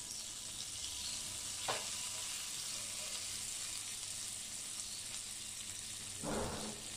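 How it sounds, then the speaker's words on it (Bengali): Chopped garlic and onion frying in butter in a pan, giving a steady soft sizzle with a couple of brief stirring scrapes, no voices. "প্যানের মধ্যে আবার আমি বাটার দিয়ে দেব। বাটার দিয়ে আমি রসুন কুচি আর পেঁয়াজ কুচিটা দিয়ে দেব।"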